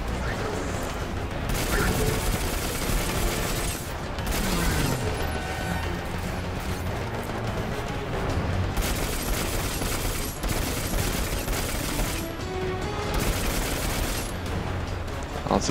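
Dense, continuous gunfire from the video game Destiny 2, loud and relentless with bursts and crashing impacts throughout, players' weapons firing steadily in rapid volleys.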